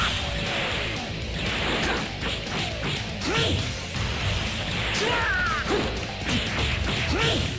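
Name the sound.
light grenade attack in video game Dragon Ball Z Budokai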